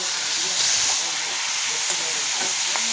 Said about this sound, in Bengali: কড়াইতে দেখেন মাংস দিয়ে দিল।